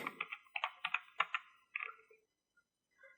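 Close, quiet keystrokes on a computer keyboard come in quick clusters as an Excel COUNTIFS formula is typed, with short pauses between bursts and a few isolated clicks at the end.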